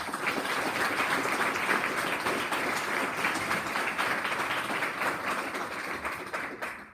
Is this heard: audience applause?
yes